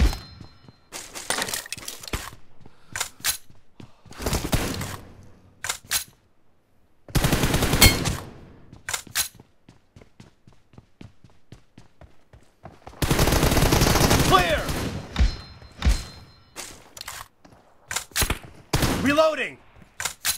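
Shooting-game gunfire, several short bursts and one longer volley scattered across the span with quieter gaps, mixed with clinks and game sounds, a voice briefly speaking at times.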